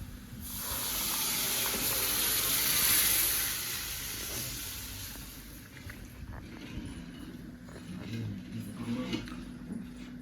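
Water poured into a hot pan while cooking misal gives a loud burst of hiss and sizzle that peaks early, then settles into a steady, softer simmering crackle, close up with no talk.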